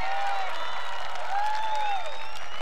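Audience at an outdoor carnival concert applauding a tribute singer, a dense, loud wash of clapping that sustains throughout, with a few whistles or cheers rising above it.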